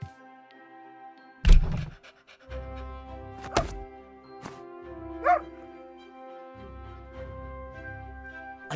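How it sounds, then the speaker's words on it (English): A dog gives a few short, close barks and yips, with gaps of quiet and soft breathy sounds between them in an indoor cartoon setting, alone without talk. "A dog?"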